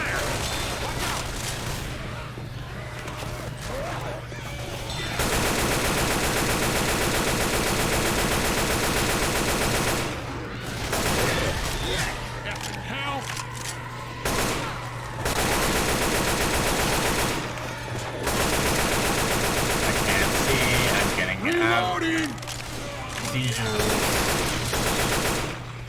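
Sustained machine-gun bursts rattle through co-op play in Left 4 Dead, loud, dense automatic fire in long stretches broken by brief pauses, with shouted callouts from other players mixed in.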